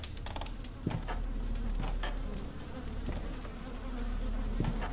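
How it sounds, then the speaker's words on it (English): Buzzing insects, bees or flies, drone steadily through a video game room, a constant low hum with occasional faint clicks and ticks over it and no talking. "I'm hearing bees or flies or something."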